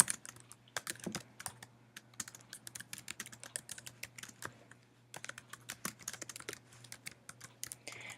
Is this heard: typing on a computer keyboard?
yes